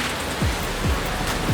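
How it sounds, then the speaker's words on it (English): Heavy rain pouring outside a condo in Jamaica, a dense steady wash of noise, with a few soft low thuds breaking through at intervals. "Like, it's pouring right now."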